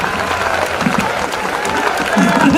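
Audience applause at a live Hindi comedy show: a steady, dense wash of clapping from a crowd, sustained throughout and swelling slightly toward the end.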